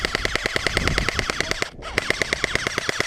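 Airsoft guns fire in fast, regular bursts of sharp cracks during an outdoor skirmish, with a brief pause before rapid full-auto firing resumes, loud and close.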